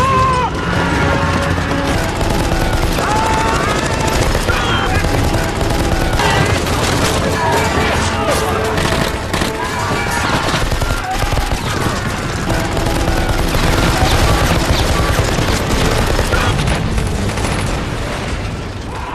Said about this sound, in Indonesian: beberapa tentara Jepang yang selamat mulai menembakkan peluru secara membabi buta